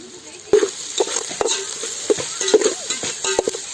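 Green chilies go into a pan of frying river crab on a village cooking fire and get stirred, giving a steady sizzle broken by repeated scraping strokes of the spoon against the pan.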